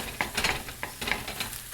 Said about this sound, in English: I don't want to burn the egg, so I put it down to level 3 after a minute or so to finish cooking it